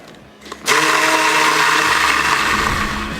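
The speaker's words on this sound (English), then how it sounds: "And let's get it blended again." An immersion blender whirs through a gallon of blueberry habanero hot sauce thickened with xanthan gum, starting abruptly after a brief quiet moment and then running loud, steady and close for the rest of the clip.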